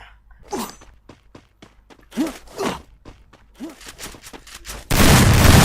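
Bursts of gunfire trade back and forth in an online video game tournament match, sharp repeated shots and thuds with scattered footsteps, ending in a loud sustained roar of fire; no speech over it.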